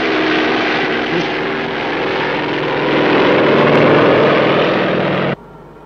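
Cartoon aircraft with a propeller engine approaching to land, a loud steady drone that swells slightly before cutting off abruptly near the end, with no voices over it.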